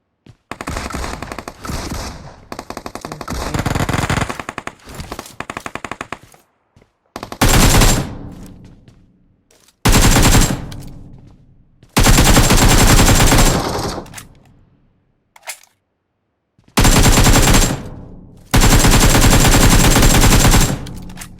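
Automatic gunfire in the mobile shooter PUBG Mobile, loud close bursts of rapid shots separated by short silent gaps, the later volleys long and sustained, with no talking.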